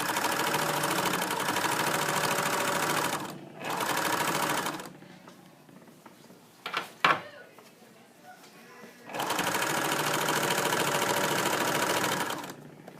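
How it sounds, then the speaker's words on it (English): A sewing machine stitches fabric in three steady, fast-humming runs lasting a few seconds each, close and even, separated by quieter stretches of fabric handling and small clicks. "I keep lifting it up to make sure that I'm sewing straight and flat"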